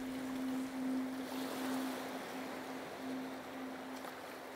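Steady rushing sea surf around a ship's hull under a constant low hum, with a gentle swell, continuous and fairly soft throughout.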